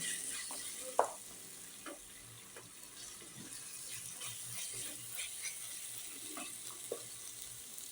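Cumin powder masala for chicken do peyaja sizzling and frying in a pan while being stirred, a steady soft crackle broken by occasional scraping and tapping of the spoon.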